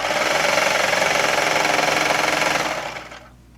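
A serger sewing machine stitches down the side seam of a knit tunic, its fast, steady mechanical whirring running loud and close before winding down and stopping.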